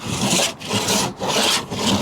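A cheese grater rasp scraping across gummy body filler on a GMC 3500 truck panel, steady back-and-forth rasping strokes about every half second, close and fairly loud, with no voices.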